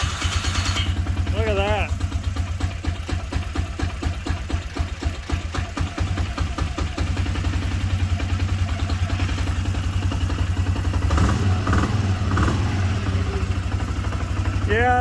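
Small engine with a freshly installed spark plug cranking, catching and settling into a steady close idle while a voice talks over it.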